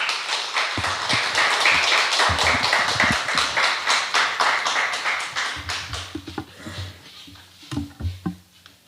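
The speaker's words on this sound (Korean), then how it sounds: "목사님 모시겠습니다. 박수로 모십니다." A church congregation claps during a Sunday worship service to welcome the pastor, beginning as a dense burst of many hands, then thinning into sparse, scattered claps as it tapers off toward the end.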